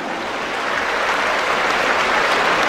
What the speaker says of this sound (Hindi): हम अपने लिए, हम सभी के लिए तालियां बजाएं